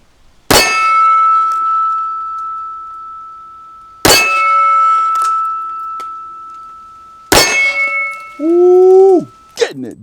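A Smith & Wesson 625 revolver fires .45 ACP hardball rounds in single action, three sharp, loud shots spaced a few seconds apart, each ringing out metallically, with a brief vocal exclamation after the last.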